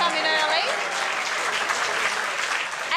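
A studio audience at a music quiz show applauds for Jamie, with steady, dense clapping that runs loud and close throughout. A voice is briefly heard over the start.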